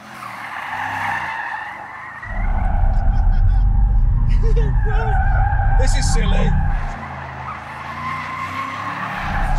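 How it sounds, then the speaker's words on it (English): A Bentley Continental GT Convertible with stability control switched off skids, its tires squealing loudly over a roaring engine for several seconds, and someone speaks over it. "Does that mean this car will do skids?"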